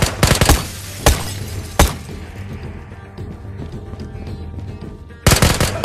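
Gunfire in the VR shooter game Ghosts of Tabor, with a rapid burst of loud shots, two single cracks, a quiet stretch with a faint hum, then another fast burst at the end.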